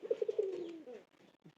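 A pigeon coos up close in a short, rapid pulsing phrase that trails off into a drawn-out coo, followed by faint rustling.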